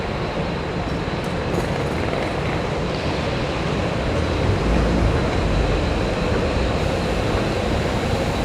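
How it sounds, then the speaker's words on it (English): Shuttle train at an airport satellite terminal rolling past, a loud sustained broadband rush with a deep rumble that swells slightly midway, heard close with no talking. "Wonder where that train just went."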